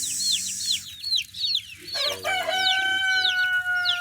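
Chicks peep in rapid, high chirps over nearby hens clucking, with a rooster crowing partway through, all close and fairly loud in a poultry yard.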